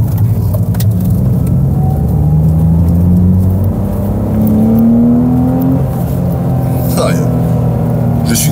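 A 2.8-litre six-cylinder BMW Z3 Coupé engine heard from inside while driving, a loud smooth drone rising in pitch through gears with rev sweeps, as someone talks over it.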